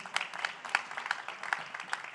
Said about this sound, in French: On peut peut-être vous applaudir déjà pour cela.